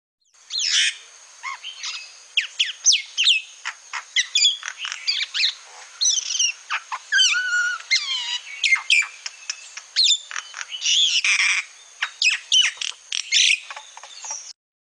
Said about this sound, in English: This is what the common mynah sounds like.